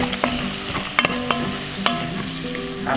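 Bacon and onion fry in a pot, a steady close sizzle with occasional stirring scrapes and clicks through the whole stretch, with no talk.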